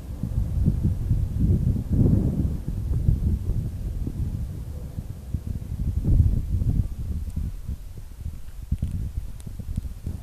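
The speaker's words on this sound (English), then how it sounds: "It's too windy out here." Steady low rumbling of wind buffeting outdoors, loud and constant with gusty swells, a faint rustle underneath.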